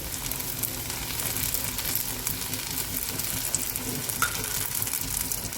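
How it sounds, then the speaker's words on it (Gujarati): Vegetable besan pudla, a gram flour pancake, sizzles on a pan over a medium flame, giving a steady, dense crackle and hiss that runs unbroken and close throughout. "તો આપણે એને મીડિયમ ફ્લેમ ઉપર જ શેકીશું."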